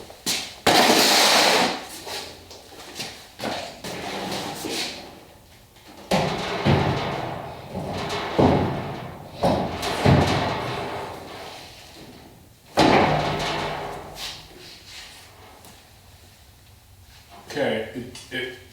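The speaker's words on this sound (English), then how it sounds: "Let's see how the door does." A Ford Bronco door with newly welded pillars swings open and slams shut several times, giving loud metallic thuds and latch clunks close by, with someone talking between the closes.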